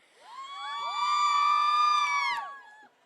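An audience at a stage show during a family Mayara celebration cheers and whoops together, a swelling chorus of high shouting voices that peaks, holds for about two seconds and then drops away abruptly.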